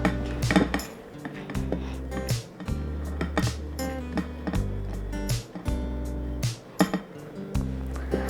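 Milk and cheese are stirred in a pot, a spoon clanking and scraping rhythmically against the metal sides with a low bubbling undertone, close-up and free of talk.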